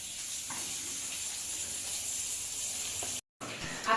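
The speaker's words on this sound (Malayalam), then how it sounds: "ഇനി ഇതൊന്ന് തിളച്ച് വറ്റട്ടെ" Fish curry soured with kudampuli, made with vala fish, bubbling as it boils down, giving a steady close sizzling hiss that runs almost without a break, cut by one brief gap of silence near the end.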